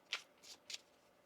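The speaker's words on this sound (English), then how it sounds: "One more shuffle." Three quick, faint riffles of tarot cards being shuffled by hand, evenly spaced and close up in a quiet room.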